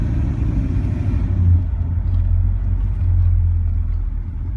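Low, steady engine rumble and road noise from a 1967 Chevrolet Impala cruising and turning, heard from inside the car, continuous and fairly loud with no talking.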